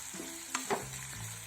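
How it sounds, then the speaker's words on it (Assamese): Onions fry in a pan over low gas, giving a steady, soft, close sizzle broken by a couple of quick scrapes of a stirring spoon. "এইখিনি কালাৰ নোহোৱালৈকে ভাজি থাকিব লাগিব।"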